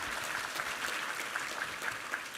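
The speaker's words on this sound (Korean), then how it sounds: "우리 하나님께 감사와 영광의 박수 올려드리겠습니다" A church congregation at a Sunday worship service applauds in praise, a dense, steady clapping from many hands throughout the short stretch.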